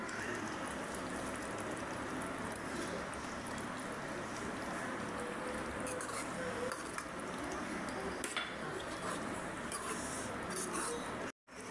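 Tomato egg curry being stirred in a pan, a steady soft bubbling simmer with light scraping and clinks of the utensil against the pan, close by, continuing throughout.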